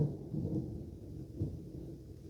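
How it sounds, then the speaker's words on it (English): Low thunder rumbling in the distance, a faint, muffled roll that rises briefly twice over steady background noise, with no talking. "Did you hear that thunder?"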